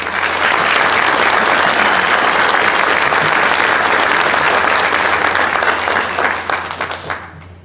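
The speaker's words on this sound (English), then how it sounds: "So let's give a round of applause to those who have been awarded in the past 2 years" Dense, sustained applause from an audience at an awards night honoring recipients, loud and steady with no talk over it, thinning out in the final second or so.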